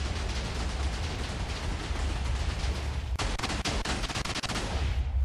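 A Minecraft TNT cannon, a slab stack hybrid nuker, fires in the video game: a continuous loud crackling roar of explosions, then a rapid burst of sharp booming blasts in quick succession.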